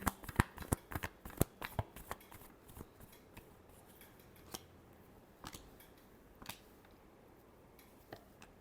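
Tarot cards being shuffled by hand, a quick burst of crisp riffling snaps at the start that thins into scattered, sparser flicks and taps, close and fairly quiet with no talking.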